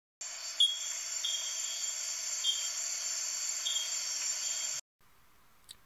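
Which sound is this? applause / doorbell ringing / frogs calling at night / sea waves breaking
frogs calling at night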